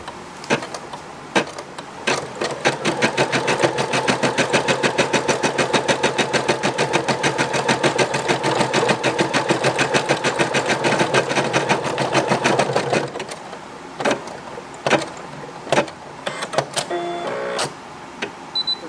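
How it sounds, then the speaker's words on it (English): Brother SE625 embroidery machine stitching out a Polo Ralph Lauren logo design, giving a steady, fast mechanical whirring and needle chatter for about ten seconds that then stops, followed by a few scattered clicks and handling noises. "we're going to be ready to embroider this thing one more time"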